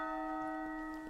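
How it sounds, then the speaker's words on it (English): The great castle bell of the Lost Odyssey video game rings as an emergency signal, a steady, sustained metallic tone with rich overtones heard alone in a brief burst. "From the direction of the castle comes the sound of the great bell, an emergency assembly signal to the soldiers patrolling the streets."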